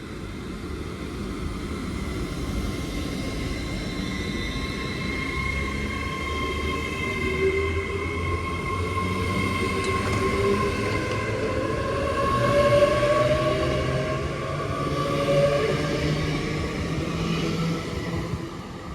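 An Avanti West Coast Class 805 train pulls away from a station at night, heading toward Birmingham New Street: a steady, loud rumble with rising electric whines that climb gradually as it gathers speed.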